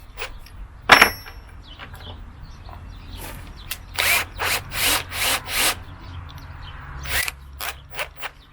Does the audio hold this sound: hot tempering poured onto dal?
no